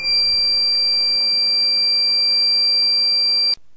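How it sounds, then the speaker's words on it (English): A mug press timer gives one long, steady electronic beep, a loud and close tone that holds for about three and a half seconds and then cuts off abruptly. "the mug is not ready until you hear the beep."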